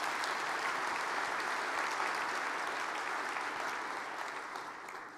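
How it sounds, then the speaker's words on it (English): Applause from a large audience at the NAIS annual conference opening general session, a steady wash of many hands clapping evenly, slightly distant, tapering off toward the end with no speech over it. "So a round of applause, please, for all of our sponsors."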